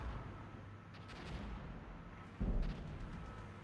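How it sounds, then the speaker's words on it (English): Enemy artillery fire in the Armored Brigade wargame is heard as faint, distant gunfire and booms, capped by a sharper, heavier thump near the end. "Enemy's launching artillery."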